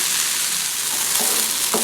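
Okra, cut for a Tamil vendakkai poriyal, frying uncovered in a pan, a steady close sizzle with a couple of brief scraping stirs near the end.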